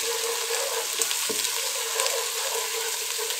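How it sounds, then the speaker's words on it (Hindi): Spices with onion and ginger paste frying in oil in a pan for kadhi, a continuous close sizzle with scraping stirs and light clinks throughout. "मसाले की भुनाई करेंगे 1-2 मिनट के लिए।"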